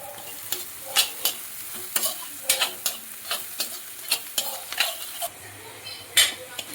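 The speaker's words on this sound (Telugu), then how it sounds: "ఆనియన్ తొందరగా ఫ్రై అవుతుంది" Onion fries in a pan while a spatula stirs it repeatedly. Sharp scraping strokes land in an irregular rhythm over a soft, steady sizzle, close and clear, with no talking.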